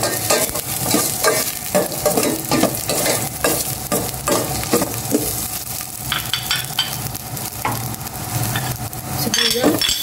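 Garlic, onion and ginger sautéing in oil in a pan, a loud, close sizzle broken by repeated scraping and clinking of a utensil stirring against the metal, with no speech over it.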